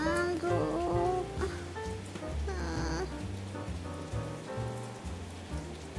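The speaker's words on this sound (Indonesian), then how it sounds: "Di luar hujan dingin, suasananya dingin jadi enakan." Cold rain falling outside, a steady hiss that sits under a prominent musical backing with a repeating bass beat and melodic tones throughout.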